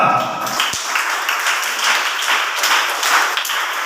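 An audience claps together in a steady, loud burst of applause at a Telugu Christian sermon, with a voice briefly heard.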